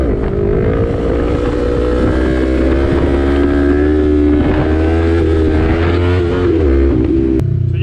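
A 2020 Yamaha MT-03 motorcycle engine revving hard and close, a loud, steady droning whine that rises in pitch while gas is held as the front wheel comes down from a wheelie, then drops abruptly near the end.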